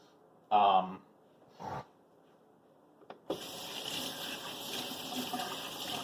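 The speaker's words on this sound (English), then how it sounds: "Sorry about the running water" A kitchen tap is turned on during chili prep and runs in a steady, close hiss of flowing water for the last few seconds, after a couple of brief vocal sounds and a clunk.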